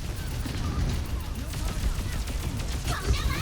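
Rapid gunfire bursts from shotguns in the first-person shooter Overwatch, continuous and dense throughout with crackling impacts over a busy game background, and faint speech-like sounds mixed in.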